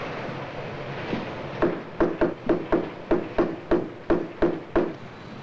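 Steady hammer blows drive a chisel into a wooden door jamb, about a dozen sharp, evenly spaced knocks ringing close and loud over a faint room hum, with no talk.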